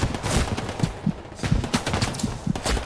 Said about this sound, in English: You hear that German machine gun just going off,